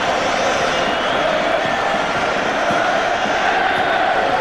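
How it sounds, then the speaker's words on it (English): Steady roar of a large stadium crowd cheering at the 1985 Wigan versus Hull rugby league Challenge Cup Final, dense and continuous throughout with no pauses. "And Graham West acknowledging the support and the fervour that crowd have given."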